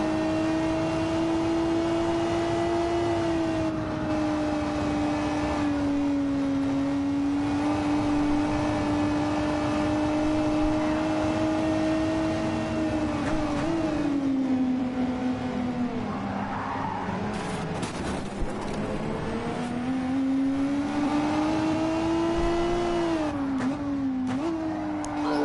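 A race car engine in a racing video game drones steadily, its pitch rising and falling with gear changes, alongside intermittent tire squeal and skidding, loud and continuous throughout with no talk.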